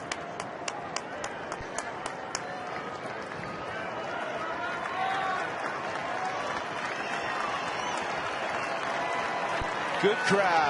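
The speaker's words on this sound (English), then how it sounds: "Good crowd this afternoon. They're trying to get involved." Sellout crowd of more than 48,000 applauding at an afternoon Arizona-at-Colorado baseball game, a broad sustained wash of clapping and cheering that swells slightly toward the end, with a few sharp claps early on.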